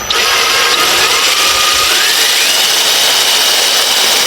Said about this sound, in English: I'm going to turn on the drill.